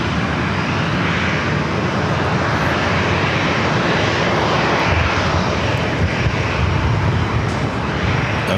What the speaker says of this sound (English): Next arrival is at Lufthansa A350-900,